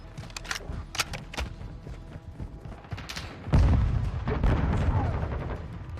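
Loud, continuous gunfire from the 2022 video game Call of Duty: Modern Warfare 2, with rapid shots and booming blasts building into a dense, heavy barrage in the second half.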